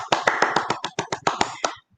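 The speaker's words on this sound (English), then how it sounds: "The big round of applause you couldn't hear. Here it is." Audience applause after a banjo camp faculty concert, heard as about a dozen distinct sharp claps in a quick uneven run, close and fairly loud, then stopping.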